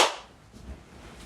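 A single sharp hand clap marking a recording take, close and crisp at the very start, then quickly decaying into quiet room tone.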